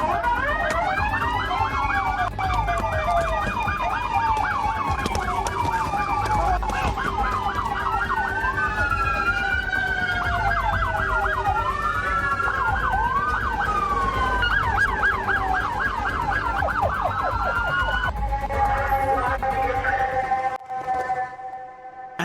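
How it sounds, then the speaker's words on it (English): An ambulance escorted by many police cars with blue-light sirens, loud overlapping wailing and yelping siren tones sweeping up and down continuously, cutting off abruptly near the end. "escorted in an ambulance by 13 police cars under blue light sirens"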